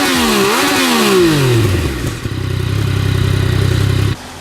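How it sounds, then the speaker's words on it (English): A 2017 Yamaha XSR900 triple-cylinder motorcycle revs up with a rising and falling exhaust note, then settles into a loud, steady throbbing idle up close before cutting off abruptly. "Okay, the XSR exhaust does sound pretty good."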